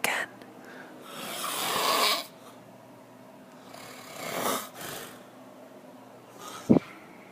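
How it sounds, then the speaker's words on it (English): A person snoring heavily: several long, loud rasping snores close by, separated by quieter breathing, ending in one short, sharp snort. "It sounds like an orc, only it's a human being snoring."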